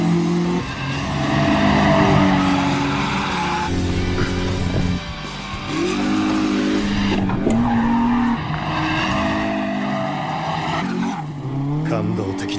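In an Initial D anime race, a non-turbo 86 drifts through a corner with loud, sustained tire squeal and engine roar. The squeal swells and breaks off several times, and voices talk over it.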